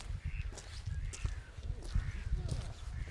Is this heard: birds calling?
yes